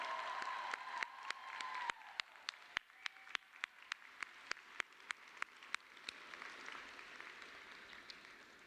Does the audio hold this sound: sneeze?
no